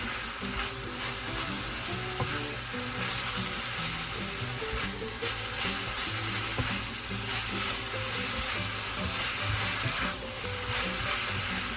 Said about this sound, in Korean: 다진 마늘 한 큰술 넣고 마늘 향이 올라올 때까지 잘 볶아주세요.